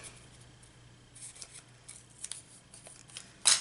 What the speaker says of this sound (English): So I'm just going to randomly just cut and glue.